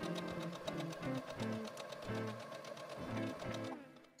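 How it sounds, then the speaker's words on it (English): A sewing machine stitching the side seams of a corset, running in quick rhythmic bursts of needle clatter with brief stops and restarts, close and fairly loud without talk. "sewed both of my side"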